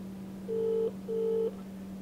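Two steady telephone keypad tones, each about half a second long with a short gap between them, sound clearly over a constant low hum, as someone dials a number on a phone.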